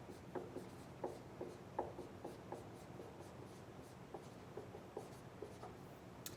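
Pen or chalk writing out a circle equation for a math lesson, with short scratchy strokes repeating in irregular bursts at close range, fairly quiet, with no talking.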